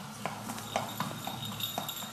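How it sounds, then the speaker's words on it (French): Horse hooves clip-clop in a steady rhythm as a horse-drawn cart approaches, the sharp knocks fairly close over a low rumble of wheels. "En plus du grincement des roues, il peut maintenant distinguer le claquement des sabots sur le sol"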